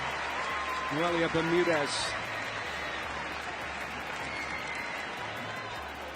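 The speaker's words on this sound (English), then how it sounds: "And a round of applause for the goalkeeper" A stadium crowd applauds the goalkeeper at an international women's football friendly between the United States and Costa Rica, a broad, distant wash of clapping and crowd noise beneath a commentator's voice.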